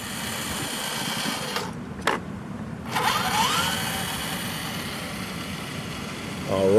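A Tamiya High-Lift RC truck's electric motor runs steadily in first gear, a continuous whirring drone that dips briefly partway through and then carries on.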